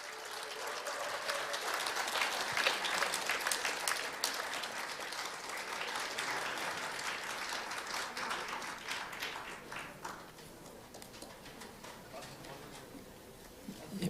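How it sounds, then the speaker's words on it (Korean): Audience at a party convention applauding as the elected presidential candidate, Yoon Suk-yeol, comes to the stage, a long, continuous wash of clapping from a large hall, fairly quiet and distant, tapering slightly near the end. "큰 박수로 환영해 주십시오."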